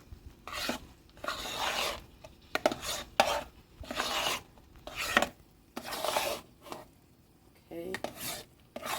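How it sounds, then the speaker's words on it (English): Shredded cheddar cheese being stirred into mashed potatoes, a spoon scraping and rasping in repeated bursts against the bowl with quiet gaps between strokes, fairly close and alone. "So we're going to stir it all in."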